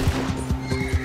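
A large, fast horse in the video game Red Dead Redemption 2 whinnies amid clip-clopping hooves, a brief loud neigh over rhythmic low thuds of galloping.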